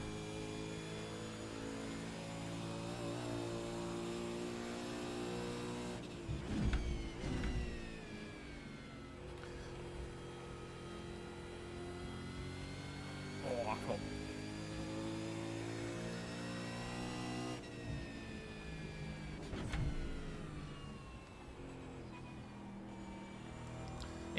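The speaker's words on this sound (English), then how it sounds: "At least this car sounds good." Race car in the iRacing sim at Bathurst, its engine droning steadily with sustained high revs, periodic gear changes and brief bursts of acceleration, heard alone without talk.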